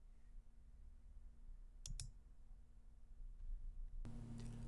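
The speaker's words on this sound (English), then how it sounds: "you can do that by clicking here." A computer mouse clicks twice in quick succession, crisp and close, then a louder knock follows amid steady background hum and no speech.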